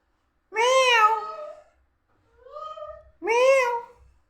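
A pet parrot gives three loud, close, drawn-out cat-like meows, mimicking a cat. Two strong calls frame a softer, shorter one in the middle, with brief silence between them.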